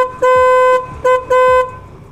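A cheap aftermarket snail horn mounted near the radiator of a Yamaha MX King motorcycle honks close and loud in three blasts: a long one, a short one, then a medium one, with quiet pauses between.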